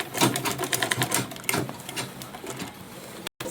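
A sewing machine stitches a fabric tote bag in a fast, steady mechanical whir with rhythmic needle ticks, close and fairly loud, running almost without pause and ending with a brief cut-out.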